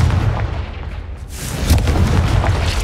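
A heavy booming blast from the Confringo spell in Hogwarts Legacy, a loud explosive burst with a rumbling low tail and a second surge partway through, no voices.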